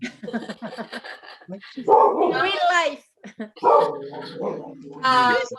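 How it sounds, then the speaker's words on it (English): During a conference panel, a dog barks loudly in yapping bursts with a few whines, mixed among people talking. "Is that my dog or is that someone else's dog?"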